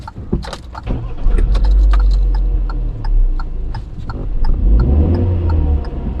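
A car engine starts and settles into a steady, low idle inside a learner-driver car during a driving lesson in Warsaw, with a few clicks just before the rumble.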